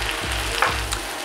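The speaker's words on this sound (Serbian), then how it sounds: "sve zajedno to pržimo dok kupus ne omekša" Potatoes, onion and chopped cabbage fry in a pan with a steady, close sizzle, broken by a few soft stirring knocks and scrapes.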